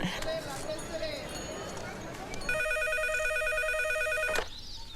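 An electronic telephone ring sounds loudly for about two seconds after a stretch of rustling background noise, then cuts off abruptly.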